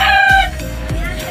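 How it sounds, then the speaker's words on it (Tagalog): Rooster crowing close and loud, one short strained call followed by a few clucking notes, no voices. "ingay ng manok"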